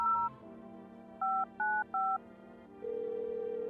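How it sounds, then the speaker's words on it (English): Telephone keypad tones in the video game No I'm Not a Human: a short tone pair, then three evenly spaced dialing beeps, followed by a steady ringing tone, clean and moderately quiet. "Let's call our neighbor."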